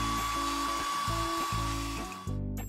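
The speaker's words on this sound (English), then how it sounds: "Blow on it with a hairdryer." A hairdryer blows on liquid acrylic paint poured on a styrofoam hexagon, a close, steady motor whir with a faint high whine that briefly dips and shifts in pitch as it is moved.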